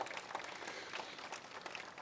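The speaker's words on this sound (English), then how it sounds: "You can applaud for that." Wedding ceremony guests applaud together, a steady, even wash of clapping held at a moderate level the whole time, with no voices rising above it.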